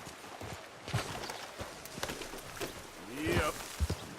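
Horse hooves in Red Dead Redemption II, a run of close clip-clop steps over steady ambient hiss, with a brief rising and falling tonal call near the end.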